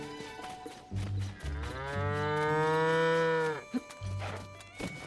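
A cow on a farm in The Legend of Zelda: Tears of the Kingdom gives one long, drawn-out moo up close, framed by soft game ambience and small clicks.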